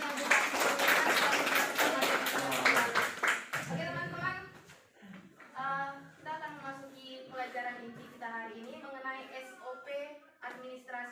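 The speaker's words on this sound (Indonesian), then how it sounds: "Tepuk tangan buat teman-teman yang buka" Classmates in a lesson clap in a quick, rhythmic burst of fairly close hand claps for the first few seconds, then the clapping stops and a teacher's voice takes over.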